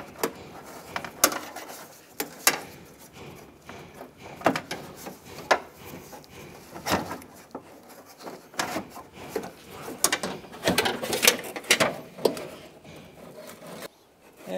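A door latch mechanism is worked loose from a 1992-1996 Ford F-150 door, making scattered metallic clicks, clunks and rattles, sometimes single and sometimes in short bursts, close by and alone.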